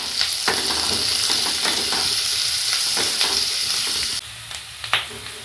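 Onions with two dried red chillies and Kashmiri chilli powder sauté in a pan, a close, continuous frying hiss with clicks and scrapes of stirring that drops abruptly near the end, leaving sharper spatula taps.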